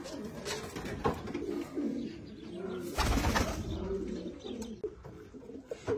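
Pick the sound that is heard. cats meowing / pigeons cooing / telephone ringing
pigeons cooing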